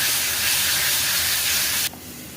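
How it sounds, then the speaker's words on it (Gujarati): A spoonful of water hits hot tempering for kurmura poha chevdo, setting off a loud, close, continuous hiss that cuts off sharply near the end and leaves only a faint low simmer. "મોટી ચમચી પાણી નાખીશું, જેનાથી વઘાર બળી નહીં જાય અને બધી મિક્સ થઈ જાય સારી રીતે."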